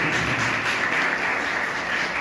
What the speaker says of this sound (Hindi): आई जोरदार तालियां खुदा के लिए।